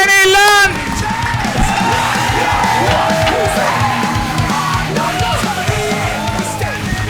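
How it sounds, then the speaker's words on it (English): An audience at a Melbourne comedy school show yells, whoops and cheers for comedian Kenny Lund, a loud sustained wave of overlapping shouts after an opening voice. "And applause going for Kenny Lund!"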